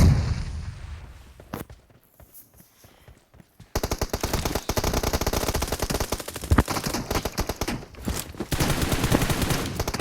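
Automatic gunfire in the mobile battle royale game PUBG Mobile rattles in rapid sustained bursts after a quieter opening with a few isolated shots, loud and close.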